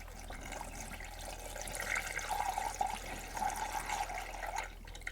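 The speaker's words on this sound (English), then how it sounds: "now that we can see the liquid pouring out there constantly" Coolant running steadily out of the bleed nipple on a 1.2-litre Mk1 Dacia Duster during a coolant top-up, a continuous trickling, splashing flow of liquid that holds steady for several seconds at close range with no talk.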